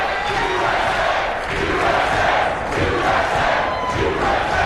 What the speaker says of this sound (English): Oscar has really brought the crowd into this. He loves their support.